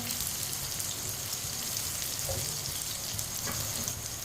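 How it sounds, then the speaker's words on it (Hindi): Chopped ridge gourd (tori) fries in a pan, a close, continuous oily sizzle with fine crackling pops and occasional stirring sounds, steady throughout with no voices. "तोरी को 3-4 मिनट के लिए मैंने फ्राई कर लिया है।"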